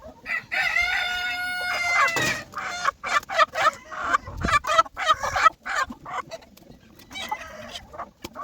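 A rooster crows loudly and close, its long harmonic call followed by clucking and squawking from fowl, with flapping and scuffling noises throughout.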